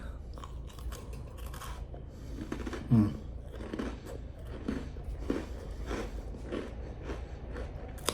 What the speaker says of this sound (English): But I'm gonna eat this cookie.